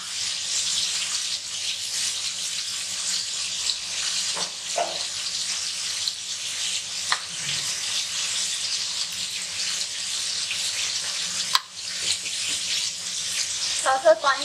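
Water pours steadily and loudly into a pan of cooking tomatoes, making a continuous rushing splash. A few clinks and a faint sizzle sound near the end.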